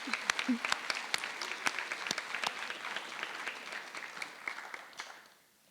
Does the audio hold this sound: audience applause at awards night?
yes